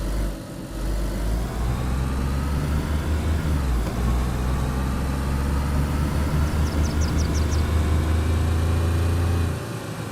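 A car engine runs steadily in the DayZ survival game on Chernarus, a loud, close, continuous low rumble that holds for about ten seconds with a faint ticking partway through, with no voices.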